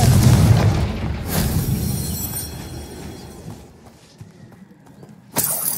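A Confringo spell explodes in the video game Hogwarts Legacy with a loud booming blast that rolls into a fading rumble, followed by a sharp second burst near the end.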